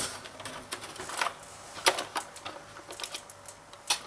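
Plastic keys on a GSD-1988 Famiclone computer keyboard, an NES clone, are pressed and handled, producing close, clacky taps in an uneven series of loud and soft clicks, with no speech.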